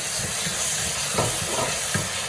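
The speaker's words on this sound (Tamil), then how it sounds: "இந்த தக்காளி நல்லா வதங்கட்டும்" Tomatoes are stirred and fried in a pan for squid biryani. A steady sizzle runs throughout, with a few scraping stirs of the spoon, close and fairly loud, and no talking.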